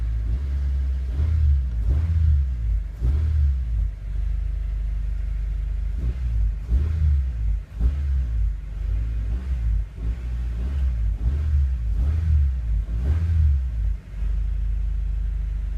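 A Honda Civic engine idles with a low rumble and rises in repeated short revs as the throttle is pressed, steady pulses roughly every second or two, close and fairly loud with no talk.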